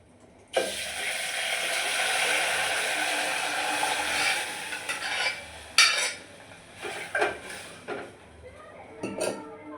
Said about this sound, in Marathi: टाकलेले सगळे पदार्थ मिक्स करून घ्यायचे